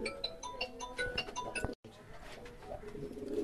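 Low, soft cooing from a pale-eyed pigeon with tight tail and arrow-like wings, repeating in short bursts over a noisy room background with a brief cut near the middle.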